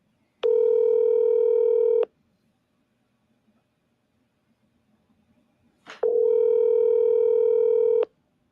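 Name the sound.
telephone call dialing tone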